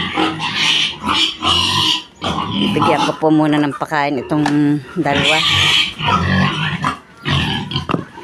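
Pigs in a piggery grunt and squeal loudly in short bursts, close by, mixed with a person talking over them.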